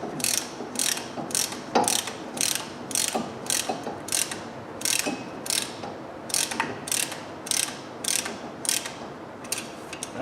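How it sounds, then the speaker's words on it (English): Ratcheting brake caliper piston compressor tool pushing the piston back in on a Dodge Dakota 2WD's front brakes: close, rapid bursts of metallic clicking in a steady repeating rhythm, with no voices. "it ratchets and it makes it so much easier to push this piston back in"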